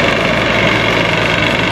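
A tractor engine idles loudly and close by outdoors in snowy Chamonix, a steady unbroken low rumble with no talk over it.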